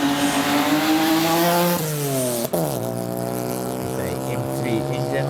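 A 1992 BMW E30 race car with an M3 engine screams past at a hillclimb, revving hard with rising then falling engine pitch, a gear change and a Doppler drop as it passes, loud and close.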